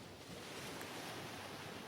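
Sea waves wash in a continuous broadband roar, steady and fairly loud, with a faint wind-like hiss over it and no voices.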